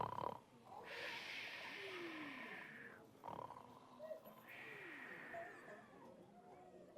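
A voice imitates snoring, with two long, drawn-out raspy inhales separated by a quiet exhale, soft and close.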